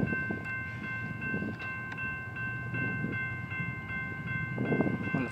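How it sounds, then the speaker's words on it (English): A BNSF freight train rumbles steadily through Williams, Arizona, on the Phoenix subdivision, with sustained horn tones held over the rolling rail noise and occasional louder swells, no voices present. "We have a BNSF freight train coming through Williams, Arizona."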